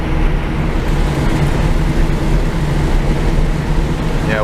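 A 1968 Morris Minor 1000 cruising in top gear on Montreal streets, its engine a steady, loud low drone with constant road rumble throughout, heard from inside the cabin without any talk.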